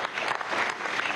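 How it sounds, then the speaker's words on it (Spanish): Brief, dense applause from a large audience at a Harlem summit of Afro-descendant leaders. The clapping is a steady wash across the short stretch, heard at some distance. "Un aplauso muy grande a todos."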